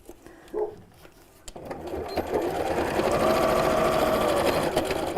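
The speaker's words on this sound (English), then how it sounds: "a little bit of a back stitch down to the end and back stitch again" A domestic sewing machine runs up close, stitching pocket lines with back stitches, starting after brief handling clicks and then whirring steadily and loudly for several seconds.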